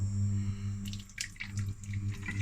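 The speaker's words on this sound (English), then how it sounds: "now we've got here very hot H2O, which is basic water." Very hot water is poured into a bowl around beef bone marrow being cooked on the hob, soft splashing and trickling pulses over a steady low hum, quiet and close.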